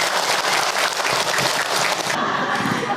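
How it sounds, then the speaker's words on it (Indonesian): An audience at an Islamic religious lecture breaks into dense, steady applause, many hands clapping continuously and close by for the whole stretch, with some crowd noise mixed in. "Tepuk tangan Ibu untuk Hilman."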